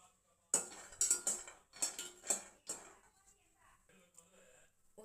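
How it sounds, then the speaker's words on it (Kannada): Peanuts roasting in a pot on a gas stove, stirred with a utensil that scrapes and clinks against the metal in a series of sharp, close knocks, fading to quieter taps toward the end. "ಗ್ಯಾಸ್ ಒಲೆ ಮೇಲೆ ಒಂದು ಪಾತ್ರೆಯೊಳಗೆ ಶೇಂಗಾ ಹಾಕ್ಕೊಂಡು ಸ್ವಲ್ಪ ಹುರ್ಕೊಬೇಕು"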